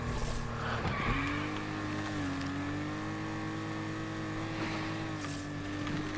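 A car slides and skids around in the Need for Speed Unbound racing game, its engine droning steadily while its tires squeal and wash over about six seconds, with no voices.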